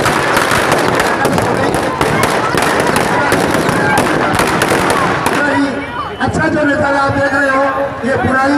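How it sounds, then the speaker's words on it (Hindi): Dense firecrackers crackle and burst loudly inside a burning Ravan effigy at a Dussehra celebration in Rajasthan, with rapid pops for about five seconds before thinning out under continuous talk and crowd noise. "अभी इसके अंदर पटाखे हैं, आतिशबाजी बाकी है"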